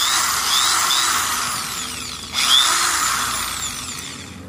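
A cordless power drill runs steadily with a bright whine close by, its pitch shifting briefly midway and then settling back, no talk.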